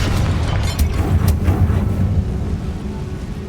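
A Confringo explosive spell in the video game Hogwarts Legacy, heard as a loud, deep booming blast with a few sharp crackling bursts early on. A low rumble trails off afterward.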